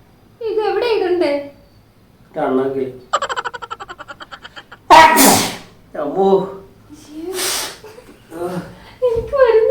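Several people take turns in a sneezing challenge, producing forced sneezes, snorts and a loud explosive sneeze burst near the middle, close and loud, with a rhythmic series of panting breaths before it and voices between the attempts.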